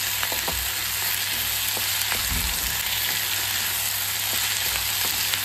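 Potato and tomato sautéing in a pan for prawn thokku, a dense continuous frying sizzle with a few light stirring taps and scrapes, no talking.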